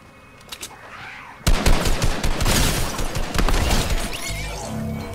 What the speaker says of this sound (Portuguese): Tô ouvindo tiro aqui, ó, no 213.